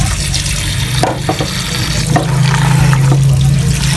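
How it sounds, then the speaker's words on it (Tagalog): Tap water runs steadily over shrimp being washed in a sink, a loud continuous splash with a low hum beneath it and a few knocks of handling. "Hugasan lang muna natin yung ating shrimp."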